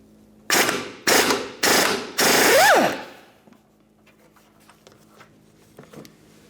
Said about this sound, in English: Now from under here, we're going to remove these two mounting bolts while holding those nuts.